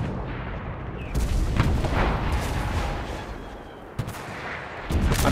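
A rocket launcher fires and its round explodes in a World War II shooter set in Hurtgen Forest. Loud, sharp blasts and booms come over a dense roar of gunfire, with a sudden hard crack near the end.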